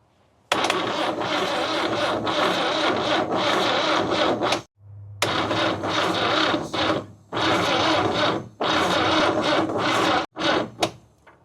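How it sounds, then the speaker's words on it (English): A 1969 Toyota engine, parked for 33 years, cranks loudly in several long bursts with short pauses between them, the starter grinding roughly and unevenly close by. "Thing doesn't sound real good on the crank"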